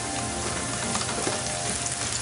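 Green chilies hit hot oil with browned onions and bay leaves for Hyderabadi tahari, producing a loud, steady, crackling sizzle that fills the pan without pause and carries no voices.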